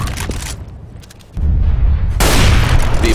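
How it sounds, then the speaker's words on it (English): A flashbang grenade goes off in Counter-Strike: Global Offensive, a sudden loud burst at mid-clip that leaves a sustained roaring, ringing wash filling the rest of the moment, with scattered game noise before it. "Flashbang."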